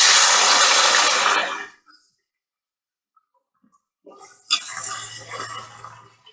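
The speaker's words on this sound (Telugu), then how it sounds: "ఈ తాలింపు వేగిన తర్వాత ముందుగా ముక్కలు కోసి పెట్టుకున్న బంగాళదుంప ముక్కల్ని అందులో వేసేసుకోండి" Potato pieces tipped into a hot curry-leaf tempering in a pan give a loud, hissing sizzle that dies away into near silence, then a fresh burst of frying hiss with a low steady tone and light clatter.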